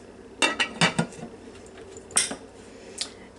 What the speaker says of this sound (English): We're going to put a lid on them.